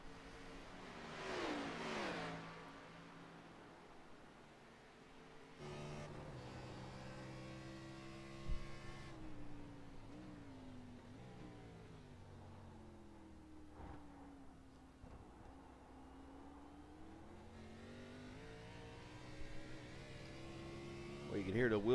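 Race cars in a sim racing video game, Xfinity Series cars, engines droning and revving with wheel spin, a layered, fluctuating mechanical whine at moderate level with commentary talk over it.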